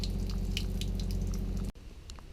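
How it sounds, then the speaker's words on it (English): Water draining from the tank of an Adria motorhome through an opened valve, a steady close splashing flow with drips that cuts off abruptly, leaving a few faint trailing drips. "When the valve is turned fully anti-clockwise, then the water will escape"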